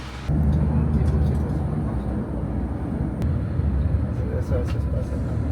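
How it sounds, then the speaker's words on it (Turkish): A city bus pulls up at a stop with a heavy low engine rumble that swells and holds steady, close by, while people talk over it. "Evet geldi otobüsümüz böyle."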